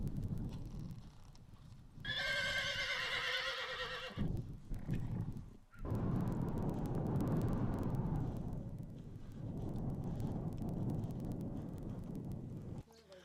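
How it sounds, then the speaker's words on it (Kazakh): A chestnut stallion's herd of horses being driven in, one loud high whinny ringing out early, then a steady mass of hoofbeats, snorts and wind rumble continuing over the rest of the clip. "6 сағаттан кейін олар күрең айғырдың үйірін айдап келді."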